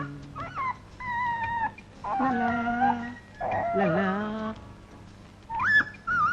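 Puppy in a Telugu comedy scene whimpering and yelping in a series of high, wavering whines and short cries, fairly close, with small pauses between calls and a brief upward yip near the end.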